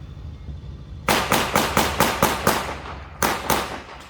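A rapid string of sharp gunshots at a military reenactment picnic in Rydzyna, Poland, about nine loud cracks in quick succession with a short break, fired at close range.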